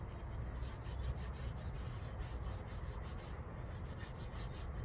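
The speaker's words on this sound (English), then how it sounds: "I'm just going to scrub" A leather knife strop lightly wetted with Windex is scrubbed to lift off paste and compound, giving a continuous, faint rubbing hiss with a quick back-and-forth texture, close and steady, with no voices.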